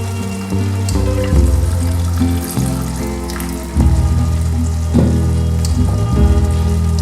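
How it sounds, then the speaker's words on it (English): Water or coconut milk poured into a pot of coconut rice on the stove, a steady loud close pour with splashing under an ongoing low hum, shifting in intensity a few times. "So I'm going to add the last water to it."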